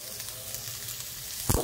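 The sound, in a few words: onion and ginger sizzling in coconut oil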